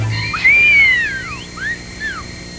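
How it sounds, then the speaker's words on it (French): A person whistles a clear melodic phrase, with sliding pitch, followed by a few shorter rising and falling whistled notes, close and fairly loud. "Je ne savais pas que tu savais siffler comme ça, maman."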